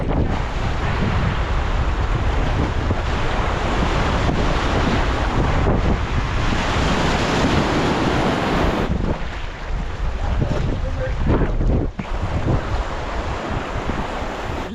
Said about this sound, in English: Big waves. Nothing to hurt you.